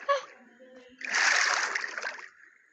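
A video game character splashes into the sea, a loud splashy burst with churning water that lasts about a second before fading. Children talk briefly just before it.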